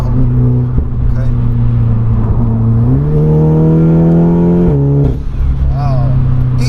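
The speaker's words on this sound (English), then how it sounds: "It is so torquey, isn't it? It's just that instant. It's you put your foot down, that's it." A stripped-out 406 bhp Audi S3 saloon revs and accelerates hard from inside the cabin, the loud engine note climbing in pitch through a gear before dropping, while people talk over it.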